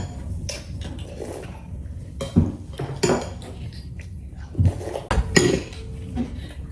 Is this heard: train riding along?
no